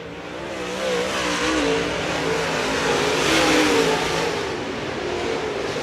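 Late model race cars run side by side in a heat race at Berlin, their engines roaring steadily and rising as they accelerate, heard from trackside at a moderate distance with no voices over them.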